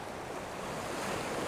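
Ocean waves break against textured coastal cliffs in a steady, loud, continuous wash of surf with wind noise across the microphone.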